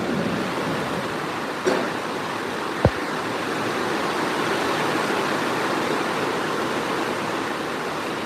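Constant broadband hiss of heavy rain pouring down, with a couple of brief knocks partway through and no voices.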